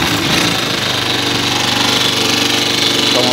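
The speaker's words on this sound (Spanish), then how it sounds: "Como pueden escuchar, el carburador está completamente acelerado" Motorcycle engine revving hard at full throttle after carburetor adjustment at home, a loud, rough, steady mechanical drone with a fast pulsing beat and no talk over it.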